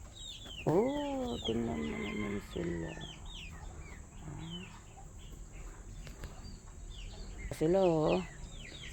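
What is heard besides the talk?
chickens clucking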